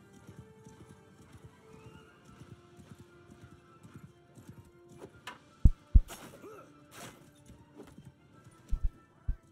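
A horse gallops in a medieval fantasy video game with rhythmic clip-clopping hooves, a whinny, and several sharp hit impacts cutting through quiet background game sounds.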